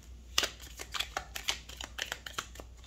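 Tarot cards shuffled by hand before the deck is cut, a close, quiet run of crisp riffling bursts at an irregular rhythm with brief pauses between, no voices.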